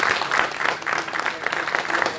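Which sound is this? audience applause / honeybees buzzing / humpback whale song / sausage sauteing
audience applause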